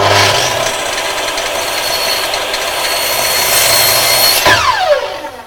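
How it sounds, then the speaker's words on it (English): Power saw cutting through wood for box wall pieces, a steady loud buzzing whine that runs throughout and ends with the blade spinning down. "Then raise the saw again and cut it through the whole way."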